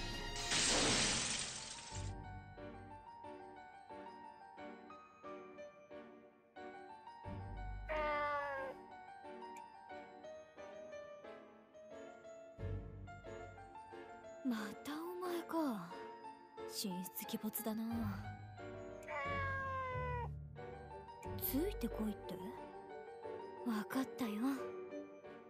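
A cat meows in the Nights of Azure game, its calls rising through dense orchestral music and game effects, with crashing, shattering hits and someone talking now and then.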